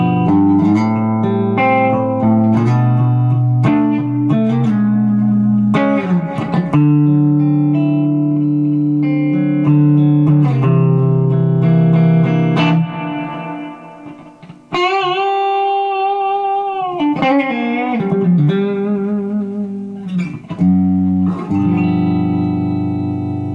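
Ibanez Artcore AM93 hollow-body electric guitar played clean with no gain, pickups in split position, slapback echo and light reverb, ringing chords and melodic phrases sustained over about twenty seconds, loud and alone.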